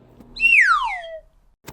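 A single clear descending whistle, loud and close, sliding from high to low over about a second, followed by a short click.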